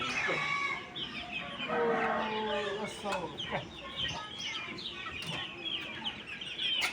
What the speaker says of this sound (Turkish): Şu horozu şuradan alayım.